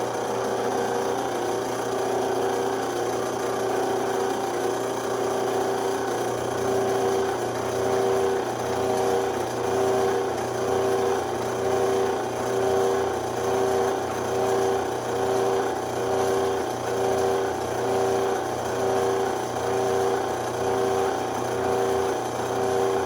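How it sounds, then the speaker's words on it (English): A drill runs dry, without cutting oil, boring a quarter-inch hole in metal in a shop. The steady whine carries a faint pulsing rhythm and lasts throughout with no talking. "I'm just drilling a 1/4 inch hole. I'm just running it dry."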